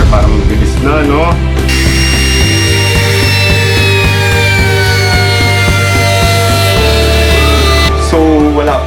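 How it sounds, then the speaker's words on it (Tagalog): A power router trims laminate on a scrapwood shelf with a loud, sustained high-pitched whine. The motor tone shifts as the cut load changes, and the router winds down near the end. "Pero in my case, gagamitin natin ay router para mabilis na"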